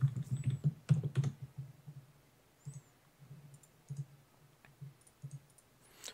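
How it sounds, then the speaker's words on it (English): Computer keyboard typing during an online game tournament, a quick burst of clustered key clicks followed by sparser, lighter taps, close and alone with no talk. "I'm typing this as I am saying it"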